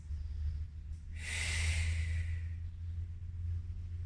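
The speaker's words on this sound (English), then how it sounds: "Just breathe here for 3 breaths." A single slow, deep breath drawn and released while holding a forward-folded stretch with arms extended and forehead on the mat, soft and close over a low steady hum.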